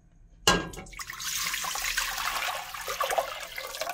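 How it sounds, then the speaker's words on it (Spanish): Water poured from a tap into a tall-sided pot on a stove, a sudden gushing start followed by a steady rushing, splashing fill that continues to the end. "En una olla de paredes altas vamos a poner el agua."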